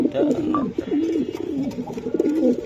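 Racer pigeons kept in a cage coo in a loud, steady run of warbling, rolling calls that overlap one another at close range and carry on through the whole stretch with hardly a pause.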